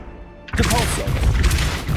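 A Depulso spell is cast in Hogwarts Legacy: a sudden loud crashing burst after near silence, followed by a short rumbling thud and clatter.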